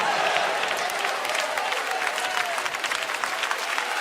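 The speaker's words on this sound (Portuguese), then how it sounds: "Pode glorificar e dar aplausos para Ele." A church congregation applauds together during a sermon, a steady dense clatter of many hands clapping close by that fills the whole stretch.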